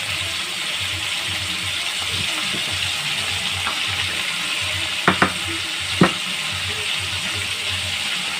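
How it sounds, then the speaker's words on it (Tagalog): Squid rings for calamares frying in very hot oil, a steady broadband crackle and hiss held throughout with a few sharp pops and spatters standing out near the middle, close and fairly loud, no talking. "dapat mainit na mainit yung mantika bago nyo iprito"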